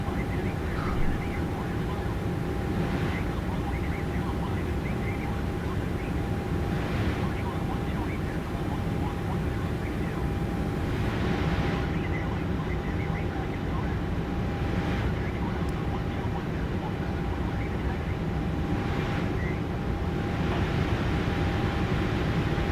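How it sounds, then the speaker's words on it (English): A small plane's engine runs steadily as it begins rolling on the ground after the parking brake is released, giving a continuous broadband drone with a constant tone, while a voice talks over it. "with this plane, just let go the parking brake and it rolls"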